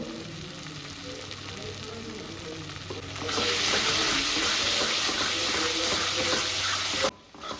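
A spice paste of Kashmiri chili powder and salt fries in a pan with a steady, close crackling sizzle that swells louder about halfway through, then cuts off abruptly near the end. No one speaks.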